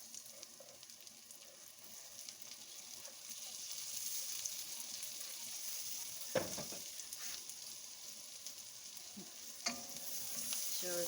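Garlic sizzles softly in a pan for tuna creamy pasta, a steady faint frying hiss with occasional stirring clatter and scrapes, no voices.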